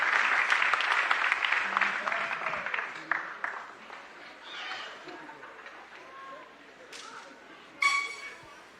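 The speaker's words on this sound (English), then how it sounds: "how about another round of applause for Matt, Slade, and Kaukeloa" Crowd applause rises loudly at first, then thins into scattered clapping and fades, with a couple of sharp claps near the end.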